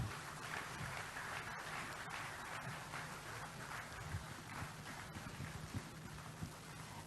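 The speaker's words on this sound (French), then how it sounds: "C'était un très beau discours qui mérite une fois de plus un tonnerre d'applaudissements." Applause follows a speech at a conference session, a faint, distant, continuous wash of many hands clapping with no one talking over it.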